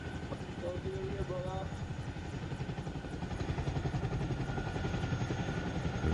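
Helicopter in Arma Reforger, a loud, steady, close rotor thrum with rapid rhythmic chopping throughout, talk faintly underneath.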